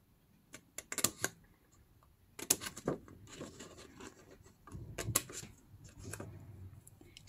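Scissors cut paper to make an ATC mailing envelope from 12x12 paper. Several quiet, sharp snips come in short bursts, with gaps and small rustles between them.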